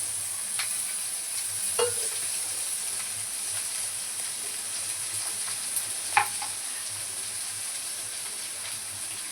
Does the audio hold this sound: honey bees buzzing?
no